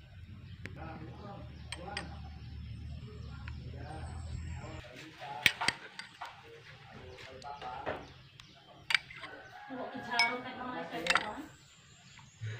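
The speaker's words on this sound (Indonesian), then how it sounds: "Masukkan bahan uji 1 ke tiap gelas sebanyak 10 sendok teh" A teaspoon clinks against glass again and again as food test material is scooped into glasses, with scattered light taps and scrapes at close range, irregularly spaced.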